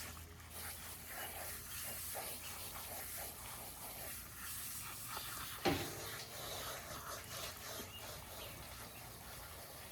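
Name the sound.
garden hose spraying water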